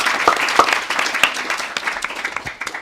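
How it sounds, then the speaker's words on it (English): An audience at a panel event applauds, a dense patter of clapping hands that holds for a few seconds at moderate loudness. "So I think we should give some applause to Sigourney."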